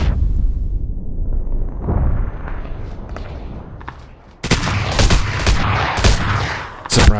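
Gunshots in the video game PlayerUnknown's Battlegrounds: a quiet, rumbling lull, then a loud burst of several sharp, close shots in quick, uneven succession.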